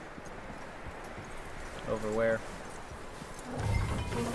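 Horse hooves clip-clopping in the Red Dead Redemption 2 video game: a few soft hoof steps, quiet and at mid distance, set against a low outdoor ambience, with someone briefly speaking.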